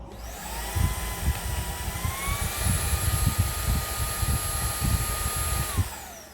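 A Greenote GSC45 cordless stick vacuum whines at a high, steady pitch, with a low rumbling roar underneath. The pitch shifts slightly partway through and drops off near the end.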